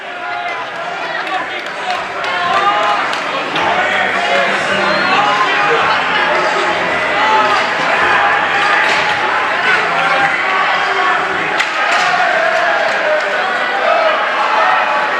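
Crowd noise at a high school hockey championship game in an arena, a dense, steady roar of voices and cheering that carries through the whole clip with scattered thumps and bangs mixed in.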